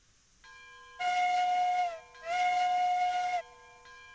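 Steam locomotive whistle in the railroad game Railroads Online sounds two long, loud blasts with a brief gap between them, over a quieter steady hiss.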